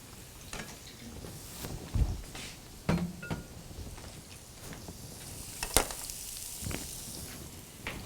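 Beef frying in a pan on medium high heat gives a steady soft sizzle, broken by occasional clinks and taps of cookware, close and alone without talk.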